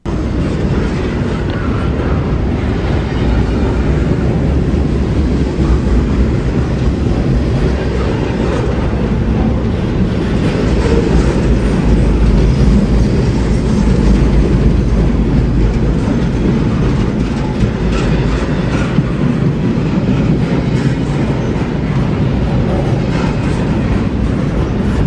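A CSX freight train rumbles past close by, a loud continuous roar of locomotive engines and rolling wheels with faint clattering, steady throughout.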